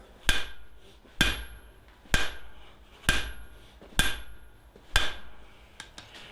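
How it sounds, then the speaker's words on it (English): Six heavy hammer blows strike hot iron on an anvil, outdoors in cold weather, while forging rustic barn door hardware. Each ringing clang comes about once a second in a steady rhythm and decays quickly, close and loud, with no talk. "I'm really trying hard to make sure I'm driving down through the work and through the anvil"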